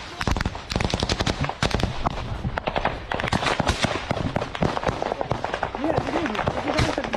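Rapid bursts of gunfire crack repeatedly during fighting in Kherson, dense and loud throughout, with a voice audible near the end.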